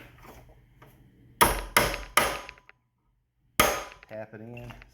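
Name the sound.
hammer tapping punch on pin, Graco airless sprayer pump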